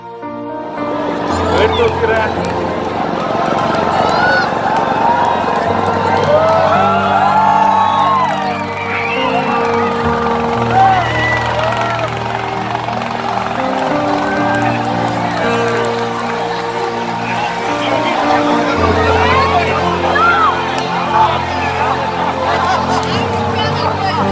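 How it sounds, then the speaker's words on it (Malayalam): Huge crowd of tens of thousands roaring, cheering and whooping at a Rahul Gandhi rally in Wayanad, a loud, dense, continuous swell of voices and shouted slogans with some vehicle noise underneath. "ആരവങ്ങൾ ആർപ്പുവിളികൾ ആകാശമുട്ടെ ഉയരുന്ന മുദ്രാവാക്യം വിളികൾ"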